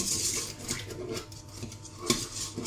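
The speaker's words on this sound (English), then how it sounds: "Stir the oats to combine." Oats are stirred in a bowl for oatmeal and raspberry cream, giving soft scraping and clinking of a utensil against the dish in irregular strokes, quiet and close, with no talk.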